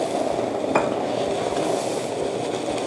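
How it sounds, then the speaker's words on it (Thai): Panang sauce with coconut milk is stirred as it simmers in a pan, giving a steady sizzle with soft scraping and one brief clink of a utensil against metal. No one speaks. "คนขึ้นมานิดนึ"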